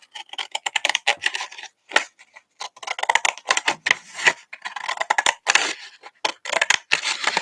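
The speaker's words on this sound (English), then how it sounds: "So I'm just going to cut along the edge here." Paper is cut by hand along the edge of a handmade waterfall journal, a fast, uneven run of sharp snips and crisp rustles, close and fairly loud, with short pauses between bursts.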